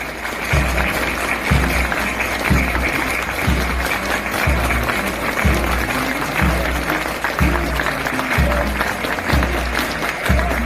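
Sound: applause at a military graduation ceremony

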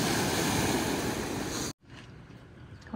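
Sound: waves lapping on a lake

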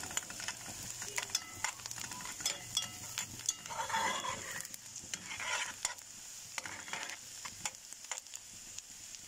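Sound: sautéing onions in a pan

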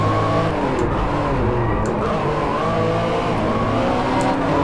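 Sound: racing car engine revving in DriveClub video game

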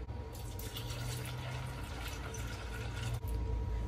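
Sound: pouring water into pitcher

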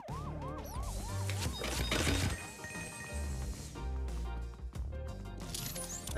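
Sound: ghost-detecting siren in Luigi's Mansion 3 video game

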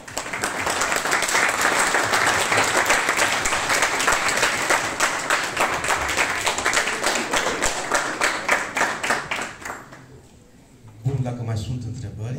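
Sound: audience applause at a poetry event

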